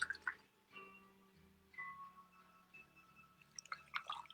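Ophir gin is poured into a bar measure: a faint, quiet liquid trickle with a few small drips and splashes, heard alone in a still room.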